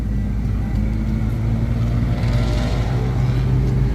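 A Mercedes-Benz C-Class engine starts up after being jump started and settles into a loud, steady idle close by, with no talk.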